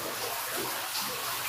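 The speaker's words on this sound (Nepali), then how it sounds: "म चिसो पानीभन्दा तातो पानीमा एकछिन स्नान गर्दैछु" Someone bathing in a hot-water pool at the Pokhara Grande Hotel, heard as a brief, steady rush of splashing, running water close by, with nothing else standing out.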